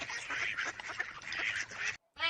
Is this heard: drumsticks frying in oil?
no